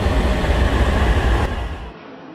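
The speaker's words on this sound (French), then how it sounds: "le métro décide de tomber en panne" A metro train rumbles loudly up close with broadband roar and low rumble, then quickly fades and drops away near the end, with no voices.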